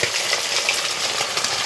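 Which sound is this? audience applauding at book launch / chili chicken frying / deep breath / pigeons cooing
chili chicken frying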